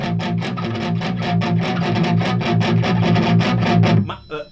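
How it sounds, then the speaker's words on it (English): A guitar played through an amplifier pushed into power amp distortion chugs out a fast, evenly repeated rhythmic riff, loud and close, before the notes cut off and ring down near the end. "what you're hearing is power amp distortion"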